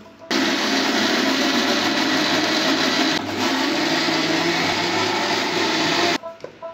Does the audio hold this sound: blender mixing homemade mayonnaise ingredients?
yes